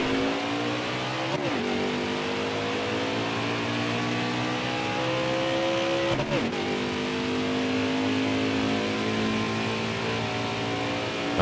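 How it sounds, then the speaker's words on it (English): Race car engines in NASCAR Heat 4 roar steadily through practice laps around the track, a sustained loud engine drone with rising and falling revs, two sharp gear-shift dips, and no talking. "let's run a little few practice laps here, just get myself acquainted with the track"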